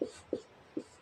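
Pen writing during a ninth-grade maths lesson, three short, faint strokes spaced unevenly across about a second, alone with no talk.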